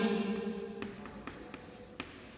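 Chalk or marker taps and scrapes on a board during a Hindi-language class XII biology lesson, a few distinct strokes and ticks heard close and fairly quiet after a fading tone.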